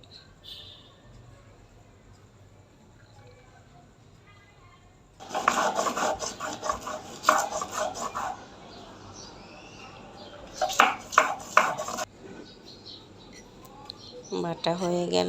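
Cumin and poppy seeds ground into a paste on a grinding stone give rough, rhythmic scraping rasps in two long bursts of strokes, close and fairly loud, with brief speech at the end.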